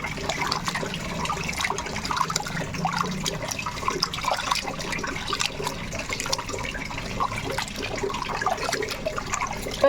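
Water runs and splashes steadily throughout, with sloshing and handling noises as fish is rinsed under a flowing tap.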